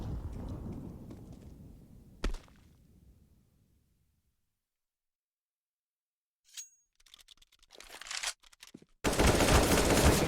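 Counter-Strike match on the Overpass map with bursts of rapid gunfire and grenade blasts, a loud spray fading into silence, then scattered sharp shots and a sudden dense volley at the end.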